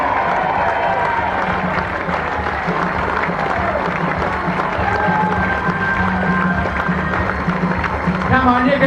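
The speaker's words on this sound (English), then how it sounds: "Give them a big round of applause, but I want you all to stand." Live audience applauding for Lonnie Lee and his group at a stage show, a dense steady wash of clapping and crowd noise that swells slightly near the end.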